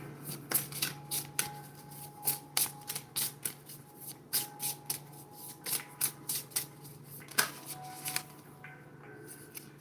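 Wandering Heart Oracle cards are shuffled up close in a steady run of crisp riffles and soft slaps, each burst sharp and evenly spaced, with no voices over them.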